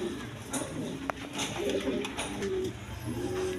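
A Bombay pigeon coos in repeated low, throaty phrases near the microphone, with scattered clicks and other birds in the background, and a voice talking faintly now and then.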